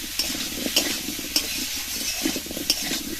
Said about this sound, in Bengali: উনুনের আঁচটা মাঝারি রেখে চাপা দিয়ে দিয়ে কুমড়ো আর আলুটা খানিকক্ষণ ভেজে নেব।